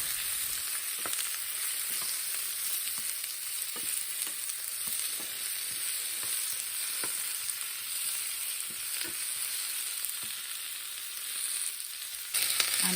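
Onion and tomatoes frying together in a pan, a steady close sizzle with light scraping stirs throughout and a brief louder bump near the end, no voices.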